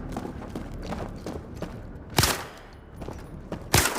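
Gunfire on a VR shooting range in the game Zero Caliber: sharp, fairly close shots, one clear bang and then another a moment later, with faint clicks and handling noise between them.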